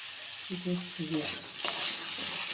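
Papaya and potato pieces are gently stirred in a hot, oily pan for a thin fish curry, giving a steady close sizzle with a few spatula scrapes and a brief tonal hum near the start, with no voices.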